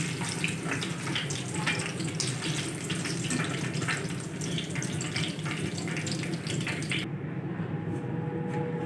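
Chicken pieces deep-frying in hot oil, Jama Masjid style, give a steady, dense crackling sizzle throughout, with the bright hiss dropping away near the end as the frying eases.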